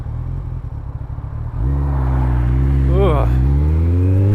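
A Kawasaki ZX-14R (ZZR1400) sport motorcycle on a flood-damaged, potholed road starts from a rough idle, then pulls hard with a loud, close engine rising steadily in pitch through one gear change, and a brief grunt from the rider.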